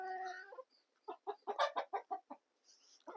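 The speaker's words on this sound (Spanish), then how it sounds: "estamos aquí depurando esta gallinita para ver si es encastada" A hen on a farm gives a run of about eight quick, clear clucks close to the microphone, preceded by a short squawk and followed by a brief higher call.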